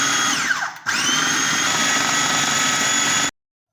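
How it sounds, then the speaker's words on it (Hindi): A kitchen blender grinding chili, coriander and mint into a paste, its loud steady motor whine briefly dipping and restarting, then running evenly until it cuts off abruptly. "अब तमाम इंग्रेडिएंट्स को इसको अच्छी तरह पीस लेंगे ब्लेंडर में"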